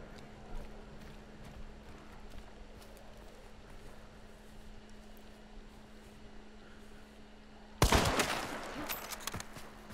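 A Mosin Nagant Obrez sawn-off rifle fires in the video game Hunt: Showdown: one loud, sharp shot with a short rumbling tail rings out near the end, after a long stretch of quiet, steady in-game ambience.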